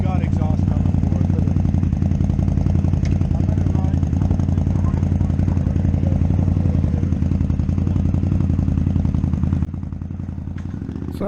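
An Indian Scout motorcycle with a very loud exhaust rumbles steadily nearby on a test ride out of a dealership car park, its deep engine drone continuous, then dropping slightly in level near the end.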